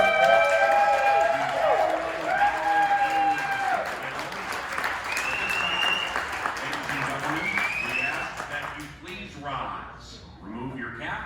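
Crowd at a football-themed radio broadcast event in Lakeville, Minnesota applauds and cheers under a voice speaking over a sound system, the clapping moderately loud and gradually tapering.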